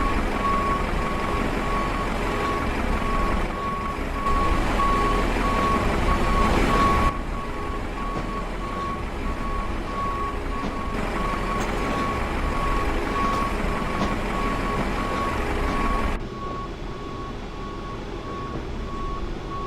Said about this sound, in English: I think I hear the bus.